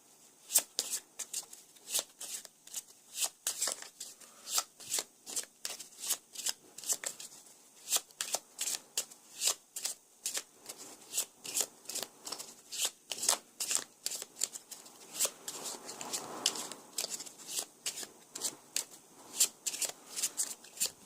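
Playing cards from the Arkham Horror card game being shuffled during a mulligan, with a long run of rapid, close, crisp riffling bursts in a steady rhythm and no talk.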